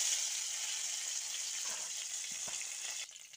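Dry red chillies and whole cumin seeds sizzle in hot mustard oil, a close, steady hissing crackle that drops off sharply near the end.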